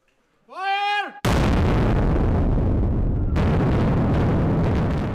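A tunnel blasting explosion at a road tunnel construction site, following a single shouted warning: one sudden, loud, deep boom that rumbles on for seconds, then cuts to a lighter, sustained roar.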